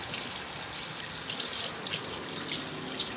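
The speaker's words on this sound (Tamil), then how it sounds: "நீ ஹேண்ட் நல்லா வாஷ் பண்ணு" Tap water runs steadily into a sink as a child washes hands, a close, continuous splashing rush with slight fluctuations and no talk.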